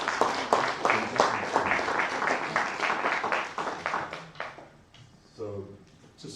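An audience applauds after an academic conference talk, with dense clapping at first that thins and fades out over several seconds, followed by a few scattered noises and faint voices.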